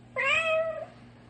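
A single clear cat meow, trapped inside a wall in an old-time radio drama, a drawn-out tonal cry lasting under a second that trails off against a quiet hum.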